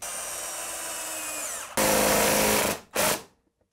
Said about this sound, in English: I'll just go ahead and screw this thing in place with 4 screws.